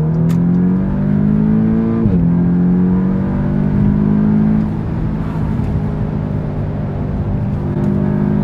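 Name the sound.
Audi S3 accelerating hard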